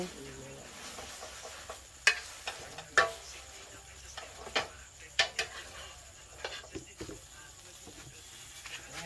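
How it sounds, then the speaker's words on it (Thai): Scrambled eggs frying in a pan, a soft sizzle under irregular scraping and clanking of a utensil against the pan, close by, with faint talk in the background. "ทอดไข่คั่ว ทอดไข่คั่ว"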